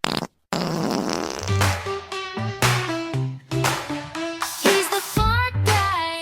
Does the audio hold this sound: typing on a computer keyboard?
no